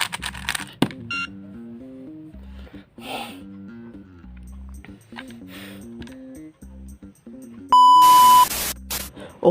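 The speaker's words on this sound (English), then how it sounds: "The beep sound is very loud." YJ pocket cube timer emitting a series of short electronic beeps in a stepped melodic pattern, ending in a louder sustained tone, close and clear with no talk.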